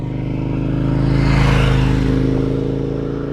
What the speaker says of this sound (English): your bike sounds really good